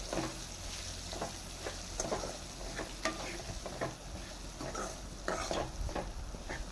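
Bitter gourd frying in oil in a pan, a faint steady sizzle with intermittent scraping stirs, close but quiet, no talk.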